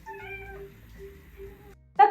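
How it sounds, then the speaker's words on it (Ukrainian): Cat meowing indoors in a space arranged for cats: a drawn-out tonal meow through the first stretch, then a short, sharper and louder meow right at the end, close to the mic with no talk over it. "Зараз буде надто миле мяу"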